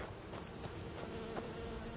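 A low, continuous hum of buzzing bees plays in Skyrim, holding even and soft from start to finish with no voices over it.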